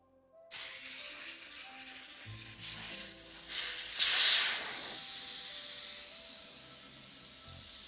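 Airbrush spraying paint onto Warhammer 40k Dark Angels Space Marine miniatures, a continuous close hiss that swells sharply partway through and then holds, with faint tones beneath and no speech.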